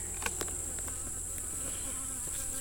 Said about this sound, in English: you see a whole bunch of bees on top